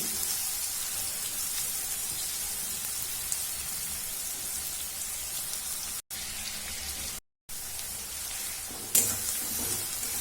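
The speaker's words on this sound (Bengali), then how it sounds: "কুচানো পেঁয়াজটাকে আমি অ্যাড করে দিচ্ছি" Chopped onion fries in a pan with a steady, dense sizzle and crackle that lasts throughout, broken by two brief silent gaps.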